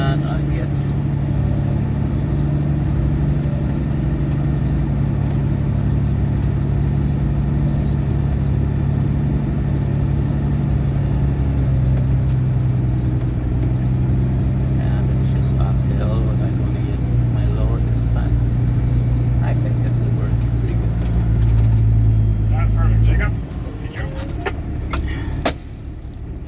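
A vehicle towing a trailer pulls ahead with a steady, close mid-range engine drone that holds throughout and eases off near the end.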